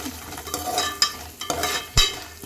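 Mustard seeds sizzle and crackle steadily in hot oil, close up, with a few louder pops and stirring clinks.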